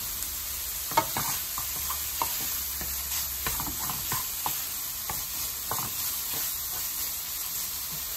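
Ground meat filling for esfiha, seasoned with salt and oregano, fries in a pan with a constant close sizzle and hiss, while a spoon scrapes and stirs in repeated irregular strokes.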